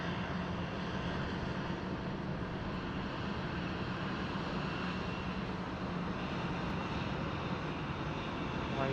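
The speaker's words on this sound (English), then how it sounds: "here she comes. A bit of A350 action there for you folks" An Airbus A350 jet airliner roars steadily at Sydney Airport, a broad continuous engine rumble heard from a distance for several seconds.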